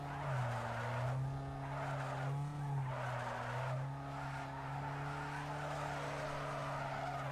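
A car drifting in the racing game Need for Speed Underground 2, with a steady engine drone and a long, wavering tire squeal that holds throughout at close range.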